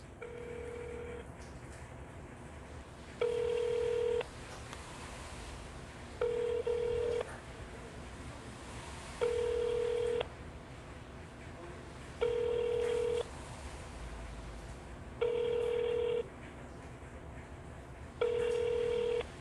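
A telephone call rings out unanswered over a speakerphone: a steady ringback tone repeats about every three seconds, six or seven rings in all, each lasting roughly a second, with faint room noise in between.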